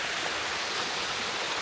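Rushing fresh water of a Swiss waterfall roars steadily, a dense broadband wash of falling water up close with no pauses and no voices.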